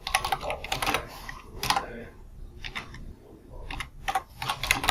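Java code being typed on a computer keyboard: close, quick bursts of key clicks broken by short pauses.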